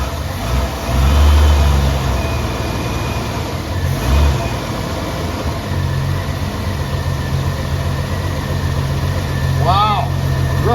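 An AMC Eagle engine, just started, runs steadily at a low idle with a loud, continuous rumble that swells briefly as the throttle is worked; a voice speaks near the end.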